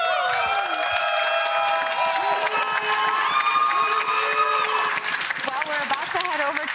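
A large arena crowd at the LEC esports spring playoff final cheers and applauds in a steady, loud wash of clapping and shouts, with a voice speaking over it.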